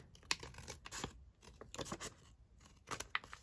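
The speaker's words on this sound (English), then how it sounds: "So let's cut this down. We're just going to snip it off here" Scissors snip through a cabinet card envelope indoors in a few close, quiet cuts, with light paper rustling and crinkling between the snips and no talk.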